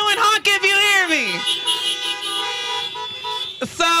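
Loud, nearby car horns blaring in overlapping sustained blasts at a drive-up political fundraiser in a park, with one tone sliding downward, followed by a shorter honk near the end.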